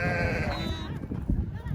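A sheep bleats repeatedly while giving birth at a livestock camp during a seasonal highland migration, the cries close and loud over a busy background with voices talking.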